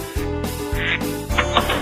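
Ducks quack and honk in a dense, raspy run of overlapping calls, loud and close, with no pauses between bursts.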